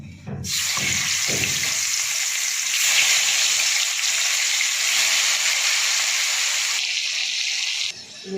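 Fish frying in hot oil in a home kitchen, a steady broadband sizzle that starts after a few soft knocks and holds evenly for about seven seconds before easing off at the end.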